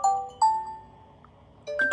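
Nokia 2780 phone playing its "Cadenza" ringtone, a few clear, bright synthesized tones. One long held note comes first, then a quick rising cluster of notes. It sounds close and fairly loud, with no talking.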